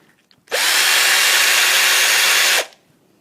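A handheld power drill whirs at full speed for about two seconds, loud and close and steady, with an abrupt start and stop and quiet on either side.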